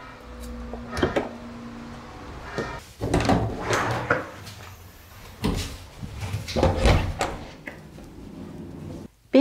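Close handling noises of a door being opened in a soundproofed wooden rental apartment while someone enters the neighbouring room: wooden knocks, thumps and scraping come in several bursts, and quiet music plays faintly in the background.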